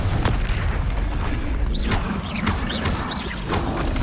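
Confringo fire spell blasts go off in the Hogwarts Legacy video game, loud booming bursts with whooshing sweeps and crashing impacts layered over a dense, continuous battle din.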